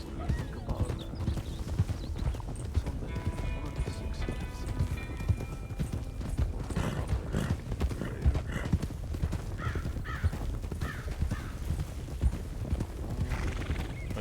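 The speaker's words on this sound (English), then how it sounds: "That sounds like a lot of horses" Several horses clip-clop and gallop at a steady rhythm in a roleplay of the video game Red Dead Redemption 2, with a few neighs and whinnies breaking through and a voice speaking faintly underneath.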